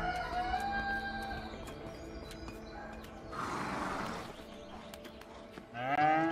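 A cow moos in the video game A Way Out, drawn-out lowing calls near and clear, with a rooster crowing in a farmyard setting.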